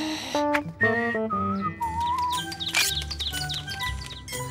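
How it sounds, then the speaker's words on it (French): Cartoon bird chirps and whistles in a string of short bright tweets and sliding calls, fairly close and clear, with bits of animated-show sound effects around them. "Va chasser cet oiseau."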